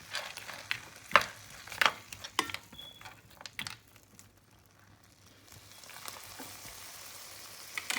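Garden peas are stirred into peri peri chicken frying in a pan, giving several sharp scrapes and clatters of a utensil over a faint sizzle that settles into a quiet simmer.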